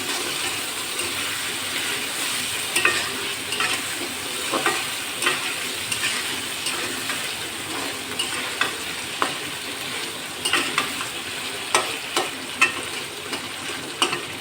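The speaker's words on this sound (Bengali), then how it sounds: "আমি এখন এর ভিতরে এই উস্তে আলুটা দিয়ে দেবো। এটারে একটু নাড়ায় চাড়াইয়ে সুন্দর করে" Bitter gourd and potatoes fry in a pan, a steady close sizzle broken by repeated scraping knocks of a spatula stirring, with no talking.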